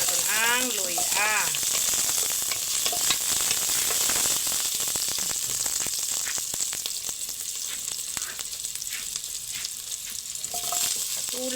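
Ginger sautéing with onions in hot oil, a steady loud sizzle and crackle throughout, with stirring scrapes and a voice briefly heard at the start.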